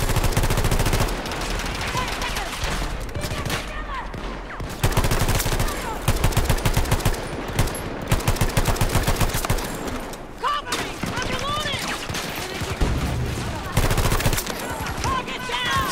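Rapid video game gunfire, sustained automatic bursts and volleys crackling loud and close almost throughout, with brief pauses between strings of shots.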